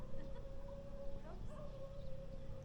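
Several dogs howl together in a drawn-out, wolf-like chorus, moderately distant, over a steady droning background.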